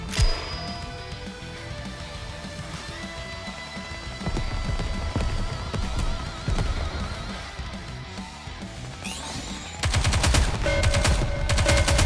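Sustained gunfire in the game Goddess of Victory: Nikke, long stretches of rapid automatic shots layered with impacts and battle effects, swelling louder near the end after a sharp sweeping effect.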